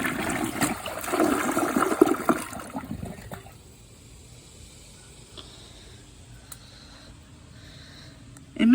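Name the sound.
flush of a new 2023 Project Source Pro toilet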